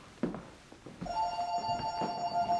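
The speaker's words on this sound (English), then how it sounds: "Let me also answer that phone." An office telephone rings with a bright electronic double-tone bell after a few soft knocks and rustles, moderately close and steady to the end.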